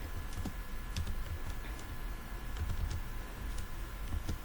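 C code is typed on a computer keyboard: quiet, irregular key clicks in short bursts over a low background hum, with no talk.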